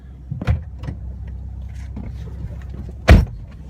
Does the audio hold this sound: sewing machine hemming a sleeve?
no